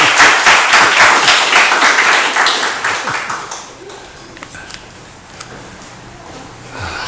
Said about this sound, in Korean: 환영 더 크게 해볼까요? 박수를.